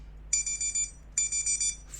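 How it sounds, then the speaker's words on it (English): A Pomodoro timer alarm beeps in two quick bursts of rapid electronic tones, each burst a string of about five bright pulses, fairly close and alone. "That's my Pomodoro timer."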